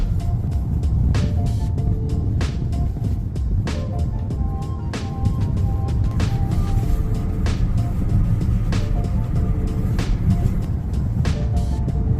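Steady road and engine noise from a car moving through city traffic on a drive from New Jersey to Brooklyn, with a continuous low rumble and repeated sharp ticks and clunks from bumps, loud and without talk.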